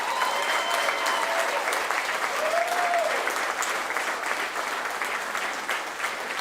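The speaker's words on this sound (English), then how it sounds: "Can y'all give them a round of applause?" Sustained crowd applause for district attorneys and investigators at a Georgia primary election event, steady loud clapping with faint cheers and a brief whistle throughout.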